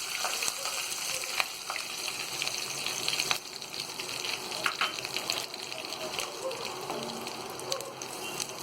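Ground magaj and coconut paste frying in a pan for mutton pickle, giving a steady, close sizzle with occasional sharp crackles and stirring scrapes.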